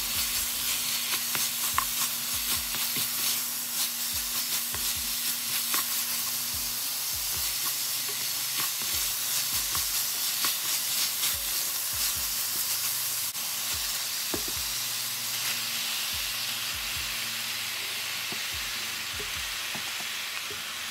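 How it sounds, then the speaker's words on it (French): Meat and onions fry and get stirred together in a pan for a Moroccan prune and meat tagine, giving a continuous moderate sizzle and hiss with occasional stirring scrapes, under background music and with no voices. "On mélange le tout, puis on rajoute la viande."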